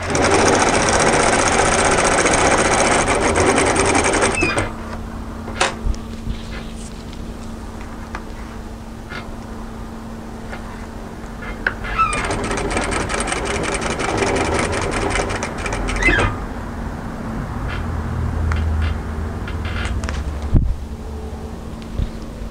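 A sewing machine stitching a seam on a peplum camisole top runs in two loud, steady bursts of rapid needle clatter, separated by a quieter stretch of handling noise and a faint motor hum.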